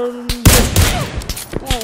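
Gunfire in the PUBG Lite video game, a short loud burst of shots up close followed by scattered softer reports and game effects.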